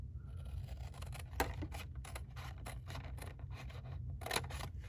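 Scissors cutting slowly through paper for a handmade candy corn treat holder, a run of short crisp snips and scrapes close by with no talk over them.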